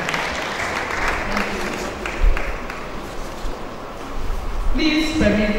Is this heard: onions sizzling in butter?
no